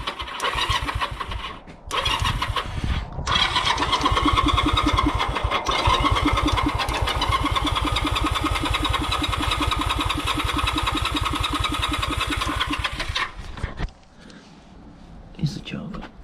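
A 1982 Honda CM125 Custom motorcycle with the choke on and the airbox off cranks and catches, then runs at a loud, steady idle for about eleven seconds before cutting out. Faint rattles follow.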